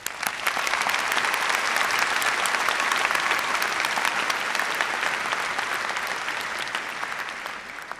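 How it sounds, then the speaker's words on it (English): Sustained applause from a large crowd at a high school graduation ceremony, steady and full from start to finish with no voices rising above it. "Let's give a round of applause to all our families, teacher, and the George Mason team"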